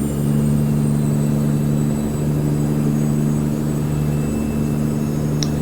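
A heavy truck engine in American Truck Simulator drones steadily at lower revs after a downshift out of 8 low on a climb, a constant low rumble with a faint whine, with no talk.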